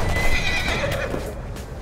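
A video-game horse gives a loud whinny over quick clip-clopping hooves, with the neigh's pitch wavering before fading out.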